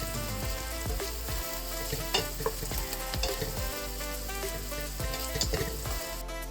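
Garlic and onion sauté in a hot pan with a continuous close sizzle, and a spoon scrapes and stirs in irregular strokes.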